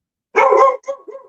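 A dog gives one loud, close bark followed by two shorter, softer yips, heard alone in a quiet room.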